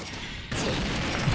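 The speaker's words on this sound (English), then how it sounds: "Explosion." An explosion in the video game Touhou Genso Wanderer Reloaded, a sudden loud boom that kicks in halfway and rumbles on to the end.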